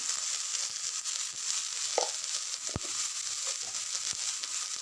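Eggplant and fenugreek greens with salt and turmeric frying in a pan, a steady sizzle with a few scraping knocks from stirring, close and continuous.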